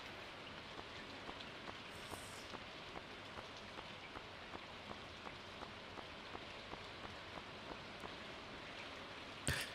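Steady in-game rain patters across the whole span in Stardew Valley, a dense even hiss with faint regular ticks of drops and no voices over it.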